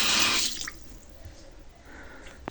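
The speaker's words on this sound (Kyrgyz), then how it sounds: "Ысык суу, муздак суу чыгат бул жерден," A sink tap in a house for sale runs hot and cold water, a strong burst of gushing flow at first that soon eases into a quieter trickle and faint drips.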